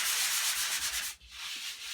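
Old sponge sanding drywall, a close rough rubbing swept in a few quick back-and-forth strokes with a brief pause near the middle.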